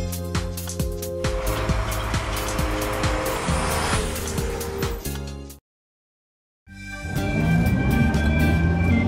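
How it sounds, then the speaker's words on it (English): An animated cartoon dump truck drives along with a loud, steady engine drone and rattling mechanical clicks, cutting to total silence for about a second before the motor hum resumes. "Dump truck."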